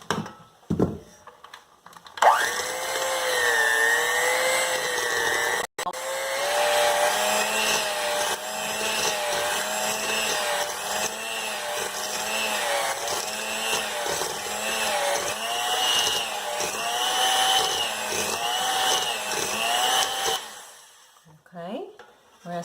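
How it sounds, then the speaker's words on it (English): A blender whirs through vegan peanut butter cookie ingredients, starting after a brief clatter and running loud and steady for about eighteen seconds with a slightly wavering motor pitch before shutting off. "Now we're going to blend these together."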